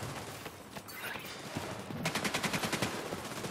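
Video game gunfire in The Division 2, a rapid automatic burst of evenly spaced shots in the second half, following a dense, noisy stretch of combat sound.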